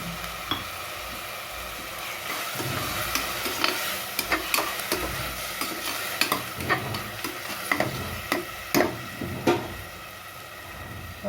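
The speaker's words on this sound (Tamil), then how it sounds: "நல்லா வதக்கி விட்டுக்கோங்க" Ginger garlic paste and yogurt for chicken biryani being sautéed in a pan. A spoon scrapes and stirs in repeated, uneven strokes over a continuous soft sizzle, close and fairly loud, with no talk.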